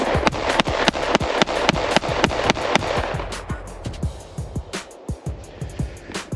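A Shadow Systems MR920 pistol caked in mud fires a rapid string of sharp shots close by, about a dozen in quick succession, followed by softer, more scattered pops and clicks as the firing tapers off.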